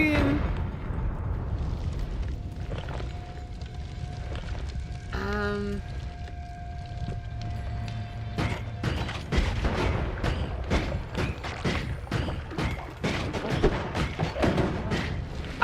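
Bombs go off in a video game: a run of heavy thuds and blasts, sharp and close, crowding the second half over a steady backdrop of game noise and music.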